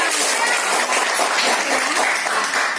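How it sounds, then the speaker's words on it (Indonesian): A classroom of schoolchildren applauds a student group after a parallel circuit presentation, a dense, loud, continuous burst of many hands clapping close by. "sekarang tepuk tangan dulu untuk kelompok 2"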